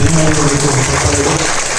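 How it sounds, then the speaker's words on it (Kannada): An audience claps loudly and densely throughout at a press day event held by the Bengaluru city district working journalists' association. "ನಿಮ್ಮೆಲ್ಲ ಪ್ರೀತಿಯ ಚಪ್ಪಾಳೆ ಮತ್ತೊಮ್ಮೆ ಅವರಿಗೆ"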